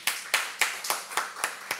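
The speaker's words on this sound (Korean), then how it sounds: "우리 하나님께 영광의 박수 올려드리겠습니다" A church congregation at a Wednesday worship service claps in unison, seven crisp, evenly spaced claps in a steady rhythm, close and clear with no talk over them.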